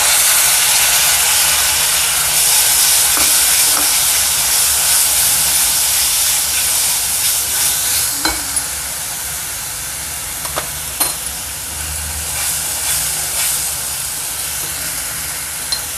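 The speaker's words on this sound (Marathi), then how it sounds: "हे आपलं भेंडीचं वाटलेलं ते वाटण टाकते आता" Ground okra paste drops into a hot pan for a village-style okra amti and hisses, a steady loud sizzle and steam hiss throughout, with a few faint clinks of utensils.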